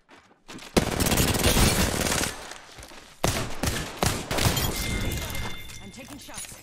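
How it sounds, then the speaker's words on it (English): Dense bursts of rapid gunfire in a first-person video game shooter, loud and close, with sharp cracks and brief gaps between volleys, mixed with what sounds like a voice. "Being shot at."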